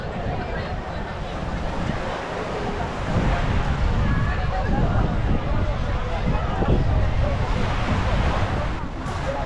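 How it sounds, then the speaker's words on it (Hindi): Cool wind buffets the microphone at a beach in Barcelona, Spain, with surf washing steadily underneath, a dense, continuous roar that swells slightly midway, loud and close. "बीच के करीब आके ना यहाँ पे थोड़ा ठंडी हवा चल रही है, ठंडक लग रही है।"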